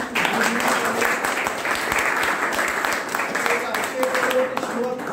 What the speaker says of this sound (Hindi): तालियों की गूंज इस वर्ग में